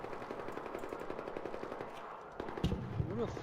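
Rapid automatic gunfire in the video game Arc Raiders, a dense stream of shots followed by heavier bursts and impacts, with a voice talking over it.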